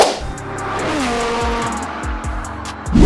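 A Lamborghini STO supercar accelerating hard during a speed test, its loud engine note rising through repeated gear changes with brief dips between shifts, close and continuous, no talking.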